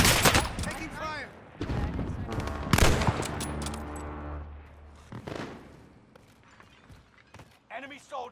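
Heavy video game gunfire, with dense automatic bursts and booming impacts crowding the first few seconds, then thinner scattered shots. A voice talks over parts of it.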